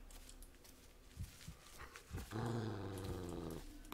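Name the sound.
dog growling in the Blair Witch video game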